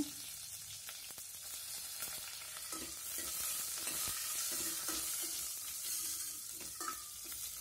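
Mustard seeds, asafoetida, curry leaves and a cut dried chili sizzle in hot oil for a tomato rasam tempering, a steady close frying hiss with occasional stirring taps and pops, no talking.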